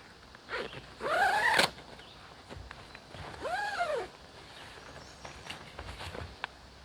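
A tent door zipper is pulled in two long, rasping runs a couple of seconds apart, with soft rustling and movement between them.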